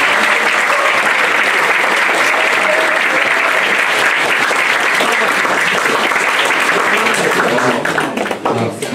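Loud, sustained crowd applause after a read-aloud performance at a high school reading concert, a continuous thick roar of clapping that eases slightly only in the final second.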